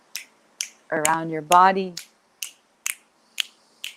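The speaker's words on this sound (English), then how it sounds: "You're welcome to snap your fingers around your head" Sharp finger snaps ring out close and clear around the head and body, about eight in a steady rhythm, with a short stretch of a woman's speech breaking in near the middle.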